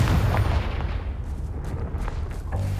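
Confringo blasting spell explosion in Hogwarts Legacy, a heavy booming blast with deep rumbling low end that fades, followed by a few lighter crackling impacts.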